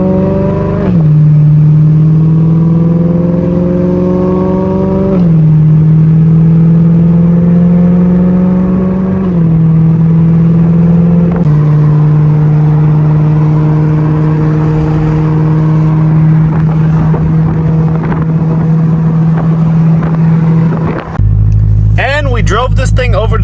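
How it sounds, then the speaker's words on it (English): A BMW E93 M3 on a test drive, engine loud and steady from inside the car as it pulls through several rising gear runs, each ending in a brief dip at the shift, then a muffled thump near the end. "we're gonna take this thing out for a little quick drive"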